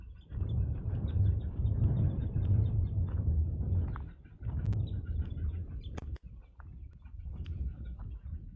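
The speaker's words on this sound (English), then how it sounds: "Hello, red wing blackbird." A red-winged blackbird calls out in Florida wetlands, its sharp calls cutting through a steady, noisy outdoor background with a few brief bright accents near the end.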